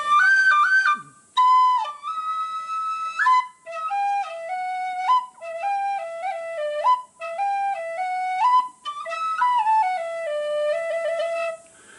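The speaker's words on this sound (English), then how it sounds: "it's an Irish whistle" A Pipola Irish tin whistle plays a lively solo melody of bright, clear notes with quick ornamented runs and short breaths between phrases. The whistle is close and loud with no talking.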